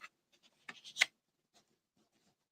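Quiet, close paper card handling: a few light scrapes, then a cluster of sharp creasing and pressing sounds, followed by faint rustles and near silence.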